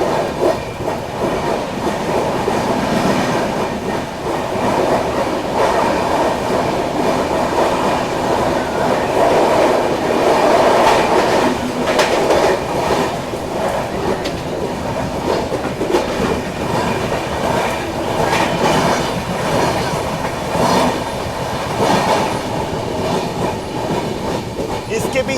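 An express train runs through heavy rain, passing a station without stopping as it crosses the Vasco–Patna train; a loud, steady rumble of wheels with rhythmic clickety-clack fills the whole stretch.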